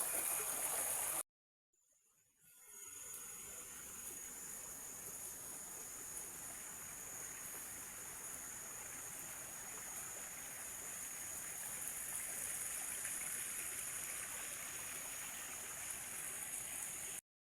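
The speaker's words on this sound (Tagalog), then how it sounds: "sapa na yan" A stream flowing at Tab-an Lake: a steady, broad rushing wash of water that starts after a brief silent gap and holds evenly to the end, with a thin high whine over it and no voices.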